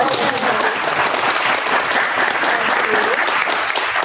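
A small audience at a city council candidates' community forum in Oklahoma City claps steadily and fairly loudly for several seconds, a dense patter of hands with no break.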